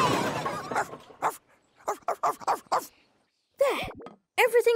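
A cartoon dog in a children's Toyland animation gives several short, loud yips and barks mixed with a voiced imitation of barking, alongside speech and music.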